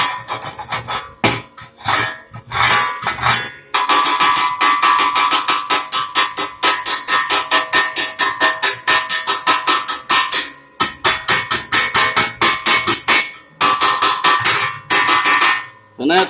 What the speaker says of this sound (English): But let's go ahead and pull this slag off.